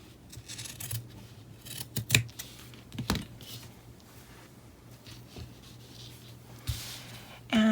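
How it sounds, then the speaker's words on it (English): Scissors cut fabric for a homemade face mask, making a few faint, crisp snips and rustles scattered over a quiet background, with no one talking. "go ahead and cut this approximately 1/2 inch on either side"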